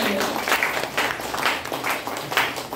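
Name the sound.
audience applause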